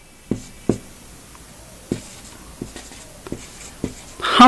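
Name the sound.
writing an Arabic letter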